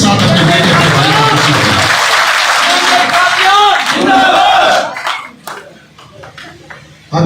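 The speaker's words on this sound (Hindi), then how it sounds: "एक बार जोरदार तालियों के साथ अपने बेटे, अपने भाई को" A large outdoor crowd at a village political rally in Ghasoli, Gannaur, claps and cheers loudly, then the noise breaks off into scattered claps and quieter murmurs near the end.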